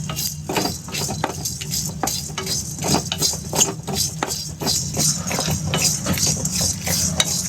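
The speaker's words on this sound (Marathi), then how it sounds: "तर आपण हे गरम मसाले थोडेसे शॅलो फ्राय करून घेतले." Garam masala shallow-fried in a hot kadai while being stirred, with a steady metallic clatter and scrape of the spoon against the pan over a low background hiss. Nobody speaks.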